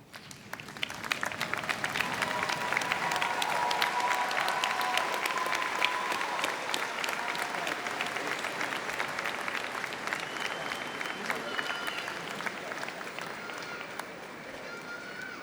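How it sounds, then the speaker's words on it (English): A large crowd at a university engineering commencement stands and applauds at length, loud sustained clapping that builds quickly and gradually fades, with scattered voices underneath. "I invite you to stand, turn around, and give those people the applause they deserve."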